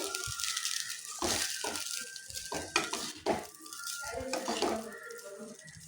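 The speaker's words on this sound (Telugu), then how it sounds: "వేసుకొని మొత్తం కలిసే వరకు మొత్తం కలుపుకుంటున్నానండి." Egg rice is stirred in a pan with a spatula, giving repeated scraping and clinking strokes against the metal over a soft sizzle, close and steady, with no talk.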